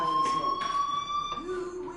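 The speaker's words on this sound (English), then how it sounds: "Hey, do you hear that fire alarm?" Electronic fire alarm tone in the video game Life is Strange, a steady high pitched ring with faint game ambience.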